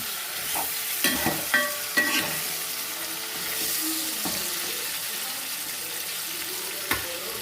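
Bitter gourd sautés in a pan for tamarind kuzhambu, with a low, quiet sizzle and a few sharp spatula knocks and scrapes as it is stirred; no one speaks.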